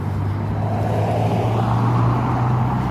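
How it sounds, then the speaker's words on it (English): A blue car rolls slowly past at close range, its steady low engine rumble and tyre noise holding loud and even throughout, with no voices. "person in the blue car is just driving by slowly and staring while I'm filming"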